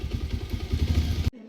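A motorcycle engine runs close by with a steady low rumble, then cuts off abruptly after a little over a second.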